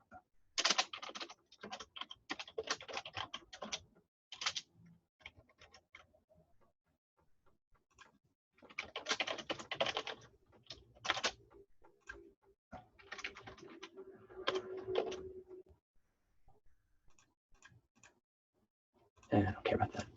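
Typing on a computer keyboard while writing JavaScript: close, irregular bursts of rapid keystroke clicks with short pauses between runs, separated by brief quiet gaps.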